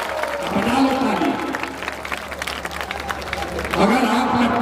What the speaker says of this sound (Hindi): बजा लो ताली।